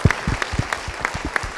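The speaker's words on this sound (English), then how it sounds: "Give them a round of applause." Audience applause for sponsors at a medical group community talk in the New Braunfels Civic Center; a handful of close, fairly regular claps pulse steadily rather than a dense ovation.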